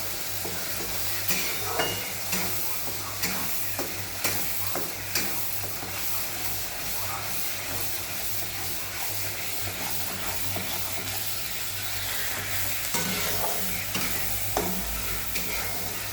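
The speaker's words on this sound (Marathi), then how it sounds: "हे मिक्स करून घ्यायचं." Crab curry masala fries in a pan with a steady, loud sizzle and hiss, while a spoon stirs through it in regular scraping strokes about every second.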